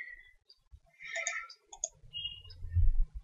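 Computer mouse clicking during drafting work on a levelling survey: a few quick, light clicks scattered across a quiet stretch, close and faint, with a low rumble near the end.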